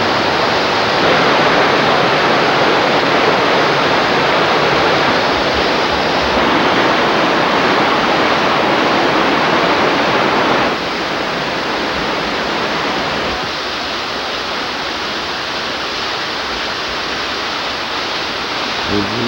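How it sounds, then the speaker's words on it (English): A stream gurgles down toward a river in a canyon, a loud, steady, broadband rush of water that fills the whole stretch and holds constant throughout, close by. "we hear the stream gurgling in the background"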